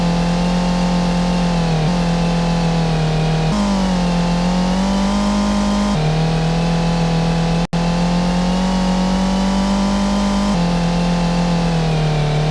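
Steady car engine revving in a self-made Godot driving game, a sustained mid-pitched drone whose pitch steps up and down at intervals, loud and continuous with one brief sharp click midway.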